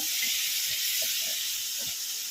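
Chili, cumin and coriander powder hiss steadily in a hot pan on a rooftop terrace while being stirred, a continuous close sizzle with faint low scraping beneath.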